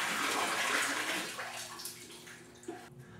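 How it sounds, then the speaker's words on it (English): Pond water is pumped through the air into aquaculture tanks, making a close, steady splashing rush like a tap pouring into a tub. It eases off slightly toward the end. "where water flows through the air"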